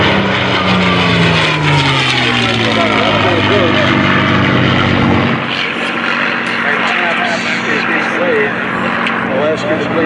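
World War II fighter aircraft flying overhead at a wartime commemorative weekend, a loud droning propeller engine rising and passing, then fading to a distant hum while an announcer speaks over a public address.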